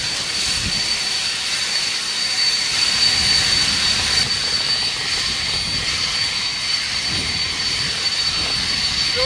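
An Aoetree lightweight electric leaf blower runs in turbo mode, a constant loud airy roar with a steady high whine, close and uninterrupted throughout.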